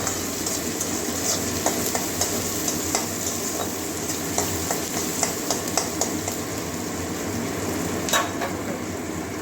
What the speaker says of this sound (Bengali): লাল লাল করে পেঁয়াজটা ভেজে নেব হালকা বাদামি কালার পর্যন্ত